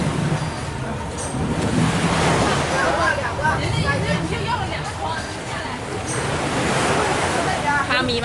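Strong sea wind and waves on a beach on Koh Larn, a constant roar of surf and gusting wind with voices chatting nearby over it.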